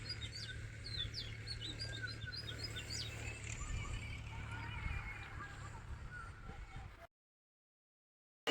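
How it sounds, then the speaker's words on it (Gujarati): Many small birds chirp and tweet from trees outdoors, with steady overlapping calls over a low background hum. They are moderately distant and continue for about seven seconds before the sound cuts to silence. "મસ્ત મજાના અત્યારે પંખી બોલે છે"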